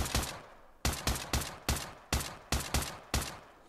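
Gunfire at shooting targets in the Pavlov VR video game, shown on an Oculus Quest: eight crisp, evenly spaced single shots with short echoing tails, close and loud, with no talk.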